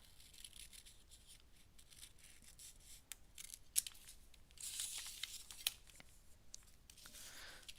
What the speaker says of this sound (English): Cut out that neckline.